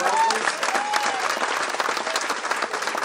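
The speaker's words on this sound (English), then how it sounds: "if we could have a round of applause for her as well" Steady applause from a sizable crowd, dense clapping that holds at an even level throughout.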